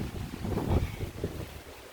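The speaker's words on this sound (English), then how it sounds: "It's just very windy." Strong outdoor wind buffets the microphone beside a 2020 SSR pit bike, a steady, close, low rumbling roar that lasts throughout with no talking.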